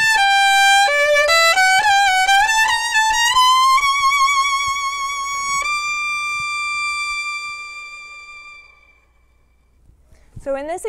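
A bowed string phrase climbs through several notes, then holds a long sustained final D with an overshape that gradually fades and dissolves away before a brief new entrance.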